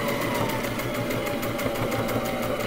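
A sewing machine runs steadily as it back stitches a seam on a rag quilt, a continuous close whirring hum with a fast regular needle rhythm throughout.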